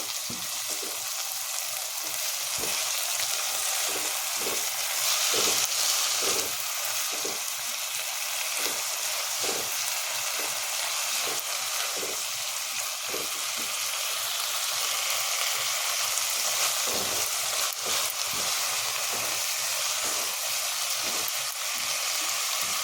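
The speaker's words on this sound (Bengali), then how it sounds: "এই যে বাটি ধুয়ে আমি একটু জলটা দিয়ে দিচ্ছি।" Leftover roti frying in a pan with sauce and a splash of bowl-rinse water, giving a steady close sizzle with soft stirring clicks throughout.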